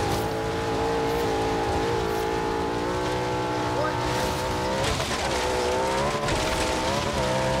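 Racing Audi in Forza Horizon 3 with a loud, continuous engine roar that rises and falls in pitch, mixed with tire squeal and skidding throughout.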